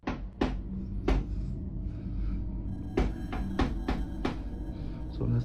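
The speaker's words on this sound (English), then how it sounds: "something is knocking from inside" Sharp, irregular knocks come from inside a wardrobe cabinet at night, a series of wooden thumps in a quiet room with faint background murmur.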